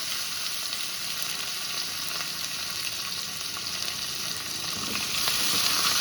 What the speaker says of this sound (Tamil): எண்ணெய் ஊற்றிட்டு பட்டை லவங்கம் போட்டு இங்கே பாருங்கள் இதெல்லாம் போடும்